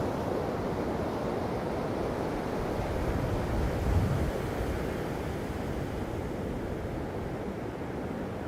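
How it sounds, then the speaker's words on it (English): Steady ocean surf rolls in at Narrabeen beach, a continuous broad wash of breaking waves with some wind buffeting, fairly even in loudness throughout and no voices. "the surf is actually looking really good"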